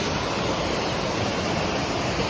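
A mountain stream rushes steadily on a Himalayan trek near Dodital, a dense, close, continuous roar of flowing water with no pauses and no voices.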